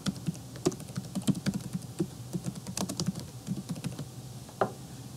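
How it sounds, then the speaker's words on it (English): Rapid, steady typing on a computer keyboard, close and clear, with irregular clusters of key clicks and a louder stroke near the end, no voices. "I am going to type in the name of the website plus the word staff."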